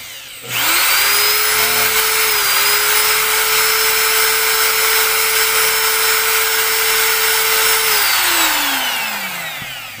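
An electric fan part spun by its motor while being sanded with oiled 1000-grit sandpaper: a loud, steady motor whine that holds for several seconds, then winds down and fades near the end.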